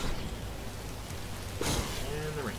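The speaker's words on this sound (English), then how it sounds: "And the rain." Steady rain falls throughout in the video game Minecraft Story Mode, a constant hiss with a brief louder burst near the end while a voice speaks faintly underneath.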